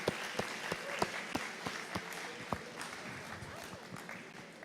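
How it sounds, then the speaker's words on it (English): Small audience at a farm show pitch competition applauding the winner, fairly quiet clapping with distinct sharp individual claps standing out over a thin crowd murmur and some talking. "So we'll give a round of applause to Rosemary."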